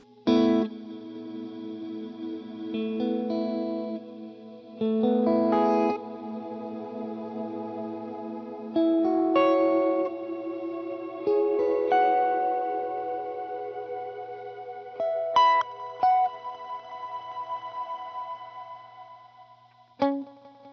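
Guitar played through an HX Stomp reverb with the dwell turned down, giving a smeared wash. Single notes and chords ring out with washy tails across a sparse, moderately quiet passage.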